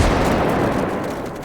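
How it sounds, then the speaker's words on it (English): A loud grenade blast in the VR shooting game H3VR booms at once, then fades as a broad rumbling roar over a second and a half, with no voices. "sequential grenade explosions can be quite useful"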